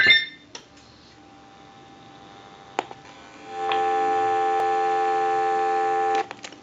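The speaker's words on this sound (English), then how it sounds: "I'll let that go one more time and we'll give you some dial tone" A General Electric 6.0 cordless telephone gives a steady, moderately loud dial tone for a few seconds, preceded by a few faint clicks and beeps.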